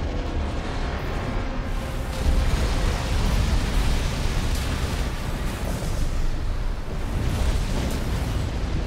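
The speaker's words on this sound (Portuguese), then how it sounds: "E foi uma explosão gigantesca." A huge, sustained rumbling explosion from the video game Armored Core VI roars with dense low-end noise for several seconds, swelling slightly midway, with no talking over it.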